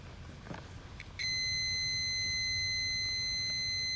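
A multimeter set to ohms gives a continuous continuity beep while testing a fuse on a 2005 Nissan Titan, a steady high-pitched tone starting after a second of quiet shuffling and holding to the end.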